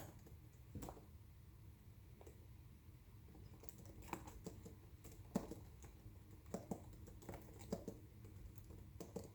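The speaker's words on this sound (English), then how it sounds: "I'm just going to go ahead and type this out here." Someone types on a computer keyboard in irregular bursts of soft, close key clicks, with a few louder taps over a quiet background.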